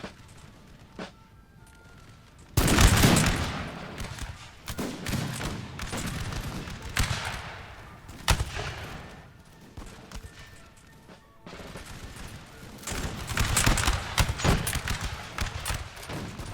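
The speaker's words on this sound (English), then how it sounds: "Our troops now going to line up behind the wall and open fire upon the enemy." Troops in the video game Napoleon: Total War fire musket volleys from behind a wall, heard as rolling, crackling fusillades in several waves over a constant battlefield murmur, with louder bursts near the start and the end.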